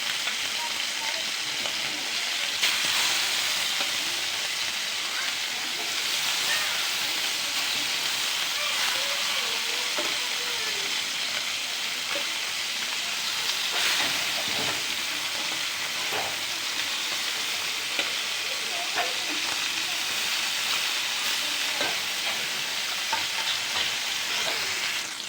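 Fish fries in hot oil in a pan with a steady, close sizzle that runs throughout, with occasional soft scrapes and stirring.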